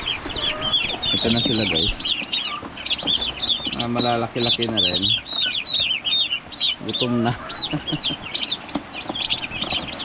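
Several chickens and turkeys cluck and gobble close by in a busy, continuous chorus, while a person speaks briefly over the birds.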